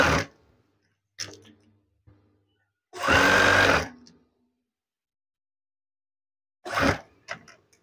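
A sewing machine stitching curtain fabric sounds in short bursts, with a brief opening run, a few faint clicks, one solid second-long whir in the middle, then a final short burst after a quiet gap.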